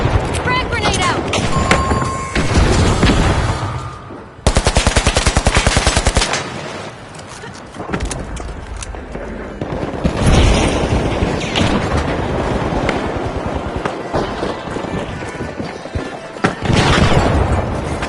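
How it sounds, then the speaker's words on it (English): Rapid gunfire and booming blasts, including a frag grenade explosion, in a match of the video game The Finals: dense, loud and continuous over about eighteen seconds, with bursts of automatic fire and heavy impacts. "Frag grenade out."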